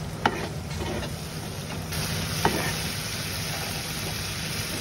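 Mustard greens and three green chillies being stirred in a frying pan, a soft steady sizzle with occasional scraping clicks of the spatula, quiet and close.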